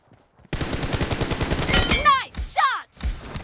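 Gunfire in the PUBG Mobile video game: a loud, rapid burst of shots over about a second, followed by sharp whistling, chirping effects and a few separate cracks.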